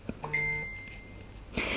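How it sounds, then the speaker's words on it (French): A short electronic tone rings briefly, followed by a steady high beep that fades, then a burst of noise at the end. "je suis désolée pour les bips, mais j'ai pas mis mon GSM en silencieux"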